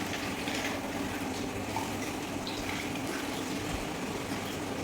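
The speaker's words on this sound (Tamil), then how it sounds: "இந்த மேலே பால் ஊற்றிக்கலாம்." Milk is poured over a German Shepherd puppy's food, a steady close liquid pouring and splashing sound running continuously with no talk.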